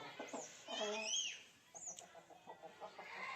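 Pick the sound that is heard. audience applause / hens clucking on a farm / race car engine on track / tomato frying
hens clucking on a farm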